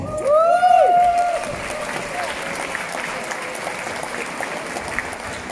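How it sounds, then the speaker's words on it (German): A crowd at a trade fair stage greeting a singer with applause, steady clapping throughout and a short, bright whistle-like call rising over it near the start. "und das ist dein Applaus."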